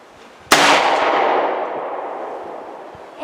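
A single loud, close gunshot from a Rossi M92 lever-action rifle in .44 Magnum, its sharp crack followed by a long ringing, reverberant decay that lasts several seconds.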